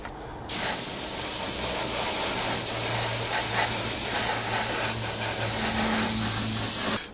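An airbrush sprays green paint onto a 1/48 scale Tamiya Supermarine Spitfire Mk.I model, making a steady, close, loud hiss that starts abruptly and runs unbroken for about six and a half seconds before cutting off.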